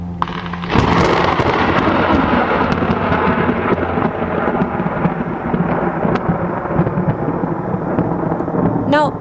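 A thunderstorm in Queens, New York: heavy rain roars steadily, with loud rumbling thunder kicking in after a brief quieter opening and sustaining throughout, no voices.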